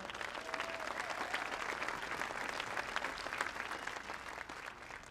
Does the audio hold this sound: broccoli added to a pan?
no